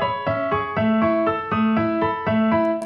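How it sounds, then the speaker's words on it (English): A digital piano plays a simple, evenly paced sequence of clean notes, about two per second, each struck crisply and sustained, with a slightly mechanical feel. "if we add a digital piano which executes these instructions"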